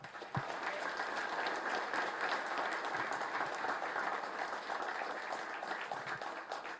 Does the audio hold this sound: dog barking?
no